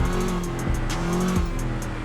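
A modded Dodge Challenger Hellcat engine in GTA 5 roars loud and close, revving in quick surges with a brief squeal of tires.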